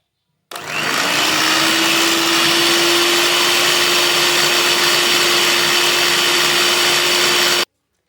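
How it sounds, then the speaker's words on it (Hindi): An electric beater whirs loudly and steadily through strawberry ice cream mixture, a close, continuous motor whine that starts abruptly and stops after about seven seconds, alone without talk. "इसको दोबारा से हम बीट कर लेंगे"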